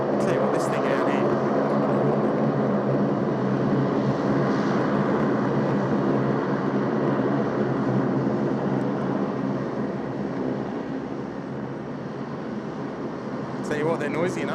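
A Saab 340 turboprop at Sydney Airport gives a loud, sustained propeller and engine drone that holds steady across the whole stretch, with people talking over it.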